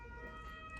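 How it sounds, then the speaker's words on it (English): An ambulance siren wails steadily near a hospital, a faint, distant tonal whine over low background hum. "Sorry about the noise of the ambulance."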